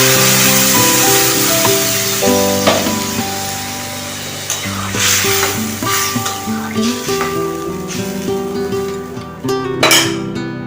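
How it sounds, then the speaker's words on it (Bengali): Water poured into a pan of frying vegetarian soybean curry sets off a loud, bright hiss and crackle that slowly settles into a steady bubbling simmer, with clinks of utensils throughout. "এবার জল দিচ্ছি।"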